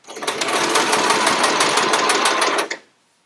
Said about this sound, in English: You want to make sure that you sew off the edge, just so you make sure that you get a nice seam.